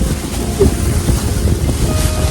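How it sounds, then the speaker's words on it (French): Strong wind in Bastia, Corsica buffeting the microphone with a constant low roar and rumble, steady and loud throughout, with faint sea-like wash underneath. "Beaucoup de vent."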